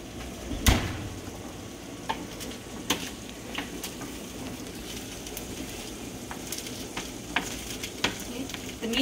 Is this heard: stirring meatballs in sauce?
yes